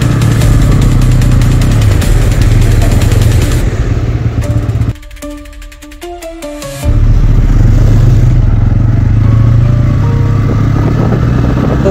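A Bajaj Pulsar N160 motorcycle engine runs loud and close with a steady idle rumble, briefly dropping off for about two seconds before resuming at full strength; no talking.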